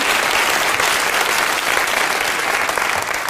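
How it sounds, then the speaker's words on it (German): Audience applause on a German satirical cabaret show, loud, dense and sustained clapping from a large crowd, unbroken across the whole clip. "Furios, verdienter Applaus."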